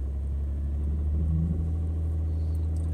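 A vehicle engine, fitted with an Edge CTS2 monitor, drones low and steady close by as it is put in gear and given gas, with a slight rise in pitch partway through and no voices.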